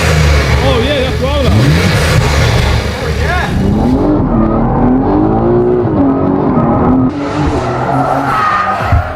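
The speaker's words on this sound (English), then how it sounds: "he topped it off with a custom aftermarket exhaust system from Scorpion" Modified BMW build with a custom Scorpion aftermarket exhaust, revving hard and sweeping up and down in pitch with a squealing, racing-style howl, while excited voices talk over it.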